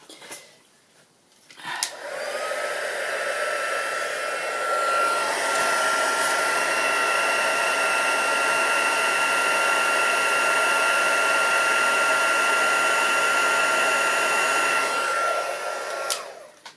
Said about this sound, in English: And then we can heat emboss again.